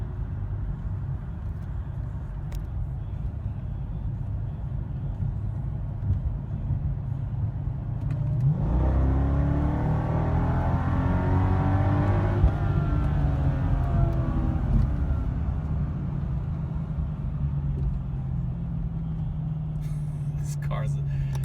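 A Mercedes E55 AMG car cruises with a low engine hum, then accelerates hard, its engine note climbing steadily through the revs before easing back to a smooth drone, heard from inside the cabin.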